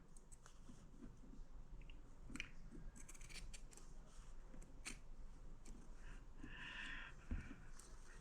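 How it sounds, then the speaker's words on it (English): Scissors snip through quilt fabric on a diagonal, with a run of soft, close crisp cuts and light rustling of the cloth, all at low level with no talking. "I'm going to cut"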